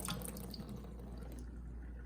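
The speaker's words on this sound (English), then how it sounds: "And so then you just kind of drain the water" Water draining out of a kitchen sink after a knife was washed, a steady low gurgling rush with faint splashes, close by and continuous with no talking.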